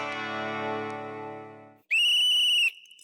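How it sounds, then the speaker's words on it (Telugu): A whistle on a Telugu TV game show gives one loud, steady shrill blast of under a second. Sustained musical tones play just before it. "నేను విజిల్ రెడీ పెట్టుకుంటా"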